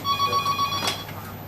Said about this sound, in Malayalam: ചേച്ചി ഫോൺ